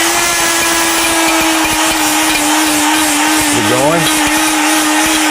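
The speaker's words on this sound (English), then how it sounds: "Now this particular one needs a little bit more grinding, and we could grind a little more." An electric grinder whirs steadily while grinding herbs for a herbal formula, a loud continuous hum whose pitch wavers briefly near the end, with a voice speaking over it.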